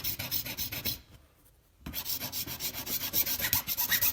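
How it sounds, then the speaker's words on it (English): A metal file rasps in steady, rhythmic strokes against a homemade fuel tank, loud and close, pausing briefly before resuming its back-and-forth scraping. "My file is just a little bit more aggressive"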